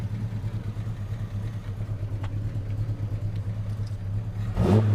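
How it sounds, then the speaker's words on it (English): A six-cylinder car engine with a lumpy cam idles steadily at a low, loping pulse, then gives a brief rev at the very end. "For a 6-cylinder, it's nice and quick. Got a bit of a lumpy cam in there"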